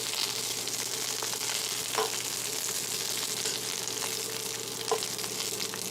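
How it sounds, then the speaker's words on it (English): Shepherd's pie filling sizzles steadily in a frying pan while being stirred, with a few soft scrapes of the utensil against the pan over a constant crackling fry. "You just want to stir it around."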